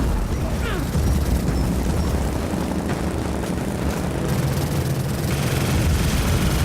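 Helicopter in the Gears of War video game, a steady loud rotor and engine rumble that persists throughout with broadband noise on top and faint voices underneath.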